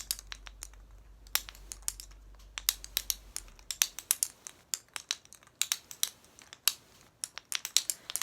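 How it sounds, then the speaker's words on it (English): A handheld Jacob's Ladder toy, made of flipping hinged blocks, gives off sharp, irregular clicks and clacks, sometimes alone and sometimes in quick clusters, close and fairly quiet with no voices. "I have a Jacob's Ladder toy, which makes a wonderful clicking sound."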